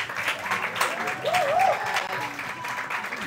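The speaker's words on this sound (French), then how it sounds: "On applaudit aussi pour le Burkina Faso" Audience at a morning TV show applauding for Burkina Faso, a brief burst of clapping with a voice rising briefly over it.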